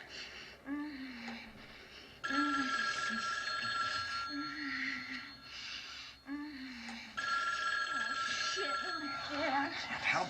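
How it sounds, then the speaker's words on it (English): A telephone rings repeatedly in bursts that stop and start, loud and close, with voices talking over and between the rings. "The phone keeps ringing."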